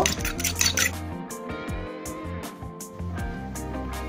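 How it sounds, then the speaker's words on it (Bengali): A fork beats an egg in a bowl while onion rings are being prepared, making quick rhythmic clinks and scrapes of metal against the dish, close and fairly loud. "একটা কাঁটা চামচ দিয়ে ডিমটাকে একটু ফেটে নেব।"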